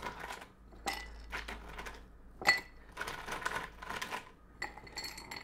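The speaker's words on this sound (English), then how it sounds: "Then we put some ice in there. Some little chunks in the bottom." Small and larger chunks of ice dropped into a cocktail mixing glass for a rye Manhattan: a series of close, clinking rattles in irregular bursts separated by brief pauses, with no talking.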